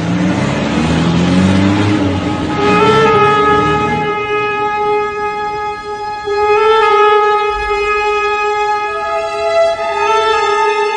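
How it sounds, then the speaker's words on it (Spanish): A car engine in a radio drama turns over and then pulls away, its steady harmonic hum rising in pitch as it gains speed, loud and close with no voices over it. "César puso en marcha el coche"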